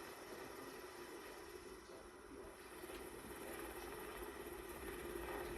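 An SH-60 Seahawk helicopter flies on aircraft-carrier patrol and rescue practice, giving a steady, faint rotor and engine drone with no pauses.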